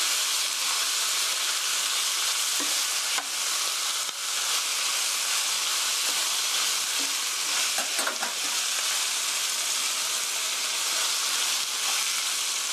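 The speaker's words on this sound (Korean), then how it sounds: "청주도 한 큰 술 넣어주세요. 고루 볶아주세요." Pork stir-fried with a spoonful of rice wine for curry gives a loud, continuous hissing sizzle close up, with faint stirring scrapes breaking through now and then.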